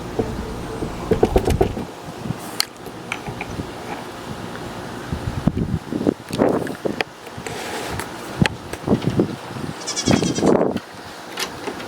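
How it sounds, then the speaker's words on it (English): Goats bleat repeatedly at close range, loud wavering cries in irregular bursts separated by quieter pauses with faint background noise. "I keep hearing the goats squawk"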